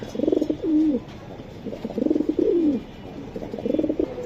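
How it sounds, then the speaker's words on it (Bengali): A female pigeon coos in three slow, soft phrases with pauses between, close by and alone. "এই যে একটা মাদি কবুতর"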